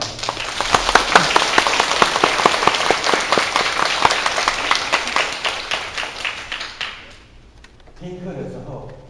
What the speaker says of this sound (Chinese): 我们用热烈的掌声来感谢王老师。